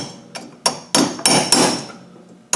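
A hammer strikes a chisel in a series of sharp, close, ringing blows, about six in quick irregular succession.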